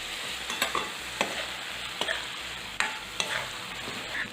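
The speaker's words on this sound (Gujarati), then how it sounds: "હવે તેને આપણે પાછું ખોલીને મિક્સ કરી લઈશું" Kathiyawadi onion and potato curry stirred in a pan, with a soft continuous sizzle and a series of sharp spoon scrapes and taps at irregular intervals, close by and without speech.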